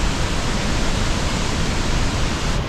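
Waterfall at Baños, Ecuador, a broad, steady roar of rushing water that fills the whole clip, loud and close, with no voices over it.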